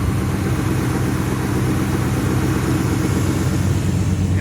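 A 1970 Chevrolet Chevelle engine runs steadily at idle, a close, continuous low rumble that stays even throughout with no talk over it.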